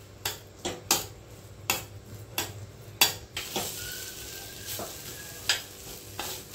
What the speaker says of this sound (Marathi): दलिया आपल्याला मंद गॅसवर 4 ते 5 मिनिटं व्यवस्थित तुपात परतवून घ्यायचा आहे.